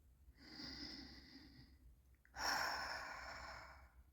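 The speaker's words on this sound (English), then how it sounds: "let's just take a deep breath" A deep breath, heard as a slow nasal inhale followed by a louder, longer sigh-like exhale, close to the mic and alone, with no talk.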